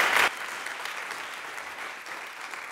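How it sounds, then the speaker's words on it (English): Applause for a presenter at a hackathon deep-dive session, steady dense clapping from a modest audience after a brief louder burst at the start. "give a round of applause for Uni"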